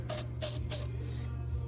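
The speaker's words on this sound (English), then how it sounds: "Amsoil silicone spray just to make it slide together friendlier" Amsoil silicone spray is sprayed onto parts during fabrication work, giving three quick hissing bursts over a steady low hum.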